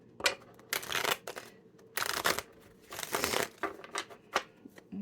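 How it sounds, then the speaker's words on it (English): Several bursts of cards being shuffled, crisp riffling rattles separated by brief pauses, close by and fairly quiet. "Let me give it one more shuffle."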